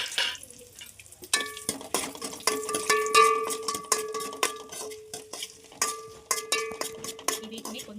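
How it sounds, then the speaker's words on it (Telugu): Whole spices are stirred and roasted in a pan, with metal spoon scrapes and clinks ringing out repeatedly over a light sizzle, close and fairly loud. "వీటిని కొంచెం కలుపుతూ ఉండాలి. దోరగా వేగాలి."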